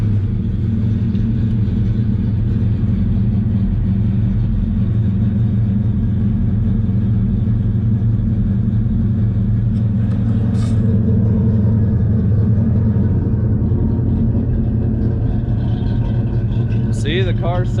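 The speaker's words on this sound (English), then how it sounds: "let's get this thing started up, and we'll go for a little drive" A Ford Foxbody Mustang V8, worn and burning oil, rumbles steadily at idle from start to finish, its low engine drone constant and close throughout, with a brief higher whine near the end.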